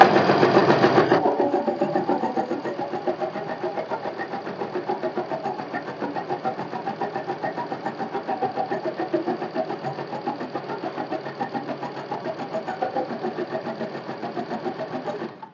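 A sewing machine stitches along the outline of a blouse's back part: a brief louder start, then a steady, continuous close-up mechanical whir with a fast rhythmic needle patter running unbroken to the end.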